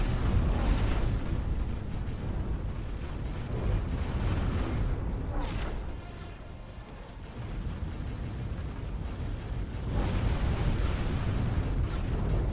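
Secondary guns on a ship pound a space station in a video game, a dense continuous barrage of booming blasts that dips briefly midway before swelling again, loud and close.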